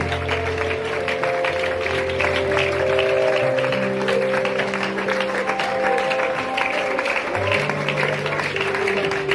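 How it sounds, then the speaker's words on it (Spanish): Church congregation clapping steadily in praise during a Spanish-language sermon on the death of Jesus, a dense continuous patter with sustained organ or keyboard chords underneath. "Aplauda a la presencia de este Dios maravilloso"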